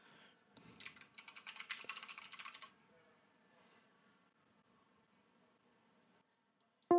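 Bursts of rapid clicky keystrokes on a mechanical keyboard, a quick flurry of typing close to the microphone lasting a couple of seconds before going quiet.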